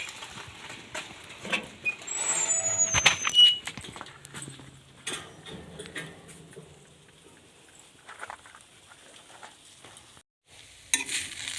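Badi being fried and stirred in a pan, with soft sizzling and scraping stir strokes, louder in the first few seconds then quieter, a brief burst of clatter near the end.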